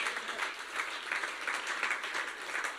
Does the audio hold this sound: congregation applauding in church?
yes